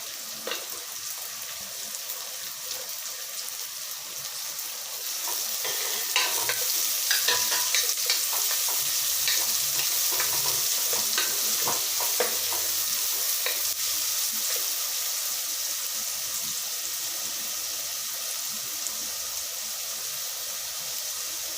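Three finely chopped large onions fry in hot oil for a mutton head gravy. They are stirred in the pan with a steady, close sizzle and scraping turns, and no one speaks.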